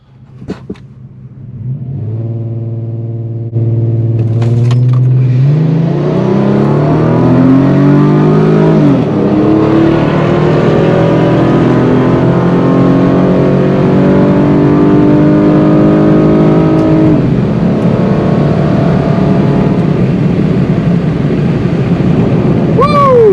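A 2010 Dodge Charger V6 with a Nitrous Express nitrous kit revs hard on a dyno, its loud engine note climbing steadily through a long pull after a short idle, with an excited voice briefly heard over it.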